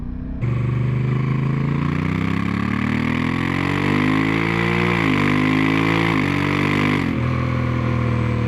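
A 2026 Honda Africa Twin DCT motorcycle engine revs up and holds with a throaty intake roar, rising and dipping in pitch, loud and close, then drops back toward idle.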